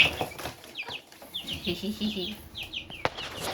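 A young Svarthöna chick, a fully black chicken breed, gives a run of short high peeping chirps, close and moderately loud, with a brief flutter and faint background talk.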